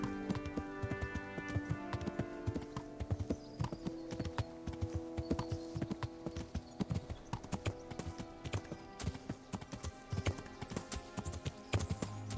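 Horse hooves clop in a quick, steady rhythm while riding through countryside in Kingdom Come Deliverance, continuous and fairly close, with a tonal game music bed underneath.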